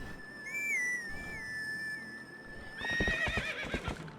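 A long whistled tone glides up and down, then a horse whinnies as hooves clatter in quick, rhythmic steps, with a synthetic game-like quality; the horse is called by whistle in Zelda: Twilight Princess.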